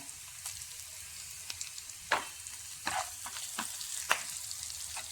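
Chopped onions sautéing in a pan with a little salt for a Kerala theeyal, a soft steady sizzle with occasional louder crackles and stirring clatters, close by.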